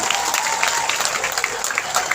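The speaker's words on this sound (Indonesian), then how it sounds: "Tepuk tangan untuk Pak Gubernur dan Pak Bupati." Audience applause at a Central Java sholawat religious gathering in Magelang, a dense, steady wash of many hands clapping at once from a large crowd, with faint voices mixed in.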